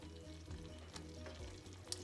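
A mixture for puffed corn snacks bubbles and sizzles in a pot on the stove, a faint, steady crackling simmer with small pops and a light clink near the end, and no voices.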